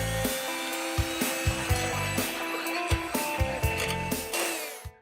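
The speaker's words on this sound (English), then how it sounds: "And now we whisk." Egg whites whisked by hand in a bowl, a close, steady rhythm of repeated scraping strokes with brief pauses between bursts, and no talking.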